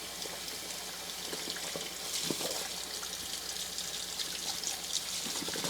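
Plastic funnels being washed under a running tap, with a steady broadband rush of water splashing continuously throughout, fairly close and with no talking.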